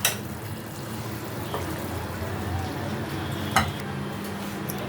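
Hilsa fish curry with cucumber is poured out of a pan, a soft wet pour and gentle sloshing under a low hiss, with one or two light clinks of utensil against metal nearby.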